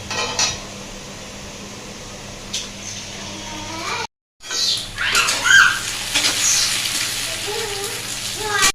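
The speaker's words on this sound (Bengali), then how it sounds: "এই যে আলুটা পেঁয়াজ দিয়ে ভাজছি ভাজার পরে ডিম দেবো" Potato and onion frying in a pan and stirred with a utensil, metal scraping and clinking over a steady background hiss, a short silent gap midway, then denser clattering stirring with some faint talk.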